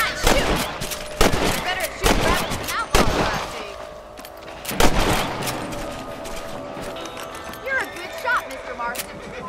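Gunshots in the video game Red Dead Redemption, fired at rabbits on an open range: several loud, sharp shots spaced a second or two apart, with horse hooves and voices in between.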